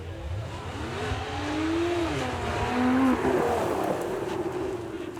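A Lotus sports car revs hard during a burnout at Beaulieu Supercar Weekend, its engine note rising and falling through sustained loud acceleration with tire noise, heard from close range without talk.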